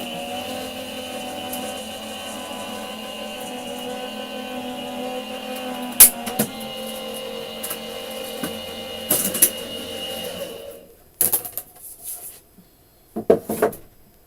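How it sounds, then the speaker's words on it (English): Die cutting machine running with a steady mechanical hum and drone, broken by a few clunks and knocks, then stopping with scattered handling sounds near the end. "let's get this die cutting machine cracked open"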